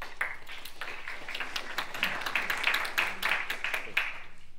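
An audience applauding at a congressional candidates' forum, a steady patter of many hands clapping at moderate distance that swells slightly before easing off.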